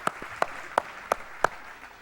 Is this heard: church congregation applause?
yes